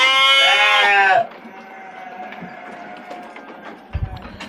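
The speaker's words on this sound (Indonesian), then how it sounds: "Alhamdulillah saya lihat ini domba-dombanya nggak ada yang bermasalah, domba-dombanya sehat." A Garut sheep in a breeding pen gives one loud, close, wavering bleat lasting about a second, followed by quieter pen noises and a faint distant bleat.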